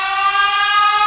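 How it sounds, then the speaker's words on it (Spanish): A steady, loud siren wail holds a sustained tone with rich harmonics for about a second, alone with no talking. "Oiga el sonido de la sirena, oiga el sonido de una sirena."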